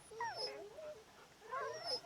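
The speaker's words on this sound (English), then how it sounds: "That's a lot of dogs." Dogs whimpering in the video game Wasteland 2, high thin whines and yips in two short bursts, faint and somewhat distant.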